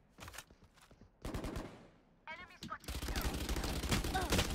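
Gunfire in the video game Valorant comes in rapid bursts of shots, mixed with in-game voice lines and growing into denser firing toward the end.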